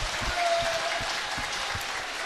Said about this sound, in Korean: 내가 기자님들에게 박수 한번 쳐드리겠습니다